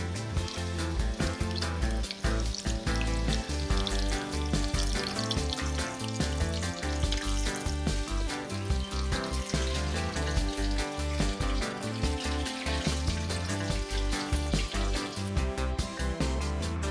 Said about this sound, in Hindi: ये देखें, ये हमारे अच्छे से फ्राई हो रहे हैं।